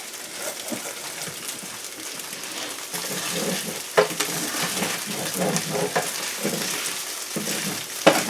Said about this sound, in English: right now it's just a lot about making sure that you stir your sauce